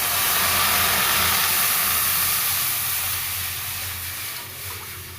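Water poured into a hot iron karai (wok) hisses and steams loudly, a dense, steady rush that slowly fades across a few seconds, with no talking.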